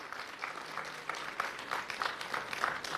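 Audience applause at a business conclave, marking a centenary year: a soft, fairly distant patter of many hands clapping, steady for about three seconds.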